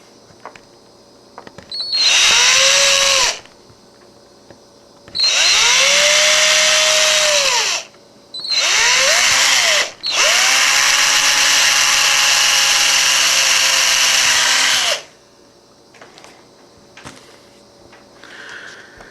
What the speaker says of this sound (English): I'm going to do is drill out that red piece of plastic